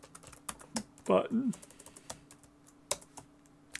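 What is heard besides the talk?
typing on a computer keyboard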